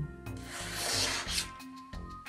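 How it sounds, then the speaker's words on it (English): A tungsten carbide knife blade from a Sandrin Torino being sharpened, giving close, loud abrasive rubbing strokes, one long sustained pass followed by several shorter rasping strokes, with no talking. "I think I may actually class this as sharpening tungsten carbide successfully."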